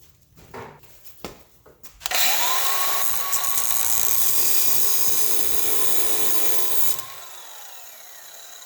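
After a few clunks and knocks, a power grinder bites into the metal of a 1938 Pontiac vent window, a loud harsh grinding that holds for about five seconds before cutting off and winding down.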